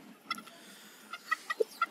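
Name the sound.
chickens clucking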